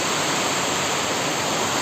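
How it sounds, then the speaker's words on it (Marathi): First rain pours onto a tin sheet roof, making a dense, steady roar of drumming water that fills the space evenly with no pauses. "पत्र्याचा आवाज, पाण्याचा आवाज"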